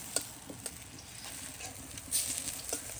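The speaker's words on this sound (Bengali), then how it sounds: "এখানে লাস্ট বড়া ভাজা চলছে" Fritters of bitter wild greens frying in oil give off a soft, steady sizzle with scattered light crackles, fairly faint and without voices.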